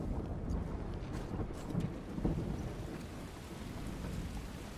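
Stormy weather in The Last of Us Part II, with steady pouring rain and a couple of swelling thunder rumbles midway, fairly quiet and free of speech.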